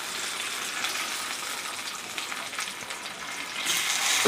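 Tomatoes frying in a little oil in a pan for a tomato, coriander and coconut chutney give a steady, soft hiss and sizzle that brightens toward the end, close with no voices.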